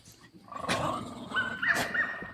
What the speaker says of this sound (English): now you got our dogs barking at the ducks